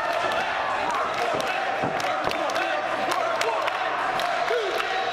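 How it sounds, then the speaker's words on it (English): A pro wrestling crowd at a POW! event chants "Purple Haze". The roar of the arena is loud and unbroken, and a voice talks over it throughout. "Crowd chanting Purple Haze."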